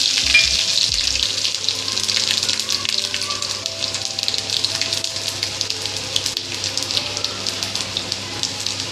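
Garlic fries in a hot kadhai of oil with cumin already added, a continuous crackling sizzle with dense small spits and pops that holds steady throughout.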